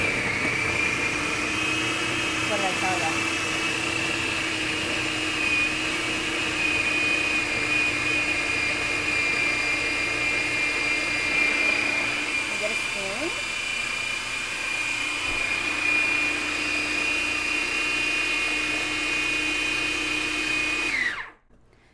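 A blender crushes frozen strawberries into strawberry yogurt, a loud, steady motor roar running unbroken for about twenty seconds before cutting off abruptly, with a voice talking over it.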